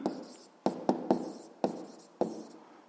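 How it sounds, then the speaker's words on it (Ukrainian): A pen writes down an answer on paper in a quiet room: six short, sharp scratching strokes in an irregular rhythm, close and faint, with pauses between them and no talking. "Пишемо відповідь"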